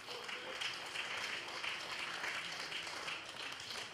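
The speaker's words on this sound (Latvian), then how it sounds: "Aicinām ar skaļajām aplausiem Eduardo Costa do Narcimesto" Loud, sustained applause from a weigh-in crowd greets Brazilian boxer Eduardo Costa at a Tonybet Fight Night event, a steady dense wash of clapping with no break.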